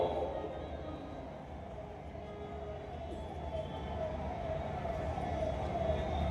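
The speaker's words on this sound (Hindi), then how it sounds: "अगर तुम्हें ये सायरन सुनाई पड़ रहा है" A wailing siren drones steadily from some distance outside a pandal hosting a religious gathering, mixed with low traffic rumble throughout.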